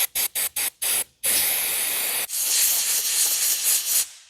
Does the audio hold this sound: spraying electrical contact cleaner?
yes